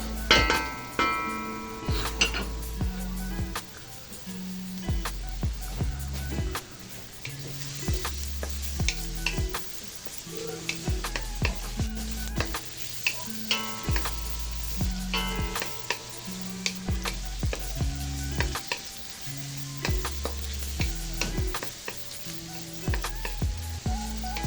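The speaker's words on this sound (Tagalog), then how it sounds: "Halu-haluin at siguraduhin na yung medyo madurog yung ating sibuyas at medyo mag-transparent yung kanyang kulay" Onions are stirred and sautéed in a pan for sinigang na salmon belly, with a steady close sizzle broken by frequent rhythmic scrapes and clacks of the utensil against the pan.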